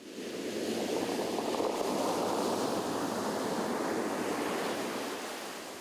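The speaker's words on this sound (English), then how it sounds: "As you stand on the shore of a beach and watch the waves tumble towards you" Ocean waves break and wash steadily onto a beach shore, a continuous loud rushing surf with some wind noise, swelling and easing slightly with no voices.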